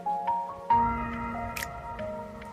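Water heats inside an electric kettle with limescale buildup, with bubbles starting to form. There are soft squishy crackles and faint ticks over a low, steady hum, and no one speaks.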